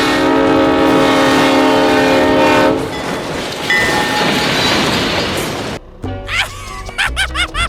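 A train in the video game BeamNG.Drive blares its horn loudly and steadily, then rumbles and clatters past up close, followed by quick mechanical squeals and bumps.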